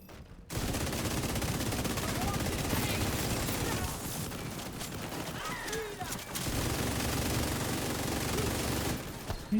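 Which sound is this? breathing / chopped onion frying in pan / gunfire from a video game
gunfire from a video game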